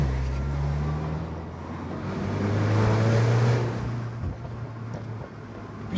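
A Mini Cooper S F56 drives along a road with a steady, low engine hum that swells slightly as it accelerates, then eases off. Road and wind noise sit beneath it, heard from inside the car with no talking.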